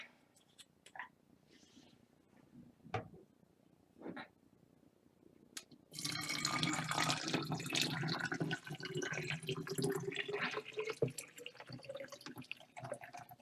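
A few sparse drips, then a loud rush of tap water pours into a pot, splashing steadily until the end.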